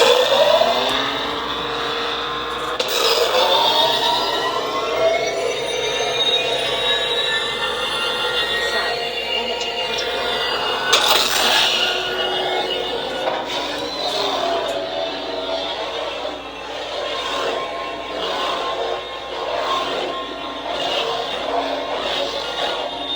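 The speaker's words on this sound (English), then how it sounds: "let's go ahead and listen to that audio track. So it's going to start up." Lightsaber sound font audio track inspired by Corran Horn starting up, a continuous buzzing, whirring hum with rising and shifting tones and occasional swells, heard alone and fairly loud.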